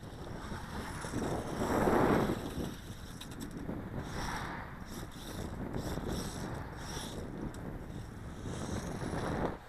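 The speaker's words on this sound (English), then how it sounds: "Oh, it's cold and windy out here." Gusty, cold wind rushing outdoors with low rumbling microphone buffeting, swelling and easing over several seconds, no voices, during an RC mini monster truck run.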